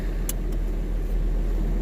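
A 2019 Chevrolet Camaro SS V8 with its catalytic converters deleted idles with a deep, steady exhaust rumble, loud and close, with a couple of brief clicks near the start and no talking.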